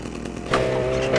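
A chainsaw in the Manhunt video game roars up loudly about halfway through, a steady buzzing engine drone following a brief quieter lead-in, with no talking.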